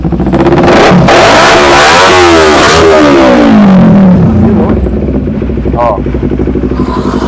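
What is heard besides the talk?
Kawasaki Ninja 250 motorcycle engine running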